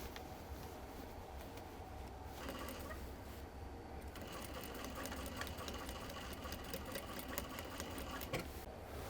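A sewing machine runs steadily through a jeans waistband seam, tapering back into the old stitching; the motor hums loud and continuous with a dense mechanical rattle and no speech.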